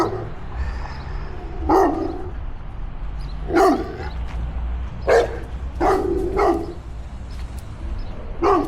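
A dog barks repeatedly in separate bursts of a few barks, fairly close, during a walk around Bachman Lake in Dallas, with steady outdoor background noise between barks.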